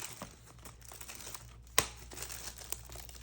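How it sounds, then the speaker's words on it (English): Tight plastic wrap is pulled and torn off a Yugioh Alliance Insight booster box, giving close crinkling and crackling with a couple of sharp snaps. "this one's so tightly wrapped that it's like difficult to open"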